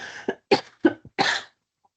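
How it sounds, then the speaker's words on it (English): Four sharp coughs in quick succession, close and fairly loud, the last one drawn out slightly longer before silence. "I'm terribly sorry, I've got a cough."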